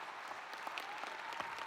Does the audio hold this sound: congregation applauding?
yes